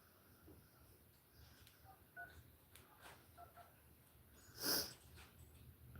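Telephone dialing tones from a phone call being placed to security, a few soft tones in a quiet room with one louder tone burst near the end.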